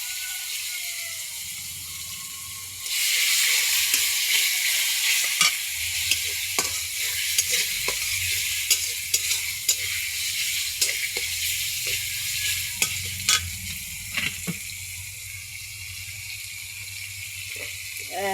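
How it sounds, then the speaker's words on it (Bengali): Bay leaf, garlic and ginger paste hit hot oil for a pigeon curry, bursting into a loud, steady sizzle after a quiet start, with scraping stirs and clinks throughout. "তেজপাতা দিয়ে রাখছি, এখন রসুন দিচ্ছি, এখন আদা বাটা দিয়ে তারপরে"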